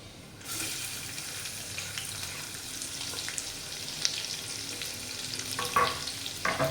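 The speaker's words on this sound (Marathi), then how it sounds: "तो छान असा परतून घेऊया कांदा बघा चांगला परतलेला आहे" Finely chopped onion frying in a pan for Hyderabadi paneer curry, a steady close sizzle running throughout with occasional stirring clinks toward the end, no talking.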